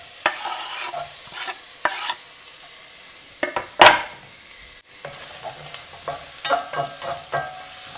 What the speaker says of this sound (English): Nice hot pan, just 2 tablespoons of olive oil. And then I'm going to cook the onions for 5 minutes until they soften up.